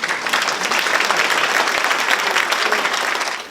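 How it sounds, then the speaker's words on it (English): A conference audience at the AES 2024 plenary session gives sustained, dense applause that holds steady and tapers off slightly at the end. "Let's actually give all of our speakers another round of applause."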